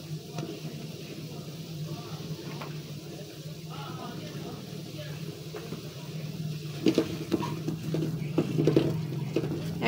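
Turmeric and chili powder fry in oil in a pan for a hilsa fish curry, a low crackling sizzle with scattered utensil clinks and scrapes, growing busier toward the end, while someone talks.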